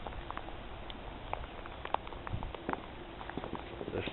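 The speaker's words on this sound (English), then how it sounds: "Freezing rain coming down." Freezing rain falls on an icy street early in the morning during an east Tennessee snow storm, a faint, uneven outdoor patter of scattered small ticks and taps.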